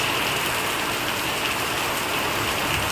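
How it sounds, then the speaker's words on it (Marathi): Heavy monsoon rain pours down in a dense, steady roar close by, unbroken and loud from start to finish. "एवढा पाऊस सुरू आहे"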